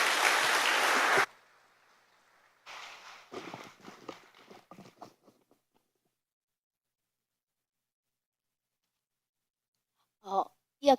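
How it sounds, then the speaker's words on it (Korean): Church congregation clapping in praise after a testimony, a short burst of applause with a few scattered claps trailing off, then a quiet pause before a couple of brief sounds at the end. "주님께 영광의 박수 올려드리겠습니다"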